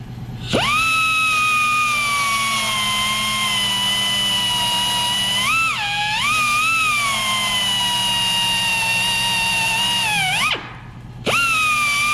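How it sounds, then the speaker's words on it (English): A belt grinder works a rocker panel or cab corner on an 09-22 Dodge Ram truck: a loud, steady motor whine that dips briefly under load, cuts out for a moment near the end, then spins back up. "Now I'm going to try a couple with the belt grinder."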